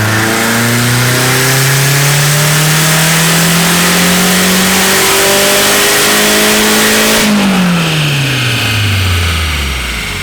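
A K-series engine swapped into a Mazda RX7 FD screams loudly through a dyno pull, climbing in pitch through a long rev sweep before the throttle lifts and the revs drop quickly.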